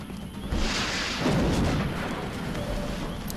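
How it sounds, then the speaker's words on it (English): A rocket fired in XCOM Long War bursts into a rumbling explosion, a broad boom swelling after a brief whoosh and fading over a few seconds, with no voices. "Suck on this. rocket."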